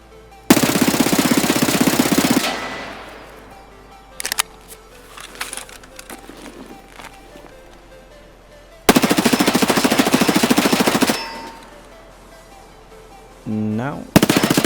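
Fully automatic MPX submachine gun fire in Escape From Tarkov comes in two loud sustained bursts of about two seconds each, with quieter handling clicks between them and a short burst at the end.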